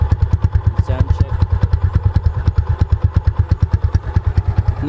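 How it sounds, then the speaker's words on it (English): A Suzuki Gixxer 150 motorcycle with a cut muffler idles close up, giving a loud, steady, rapid thumping exhaust beat with a rough clattering edge. "Today I'm gonna be showing you my motorcycle, which I cut my muffler"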